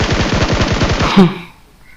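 Rifle fire from the PUBG video game rattles off as a rapid burst of about a dozen loud, evenly spaced shots, then cuts to quiet, with no talk over it.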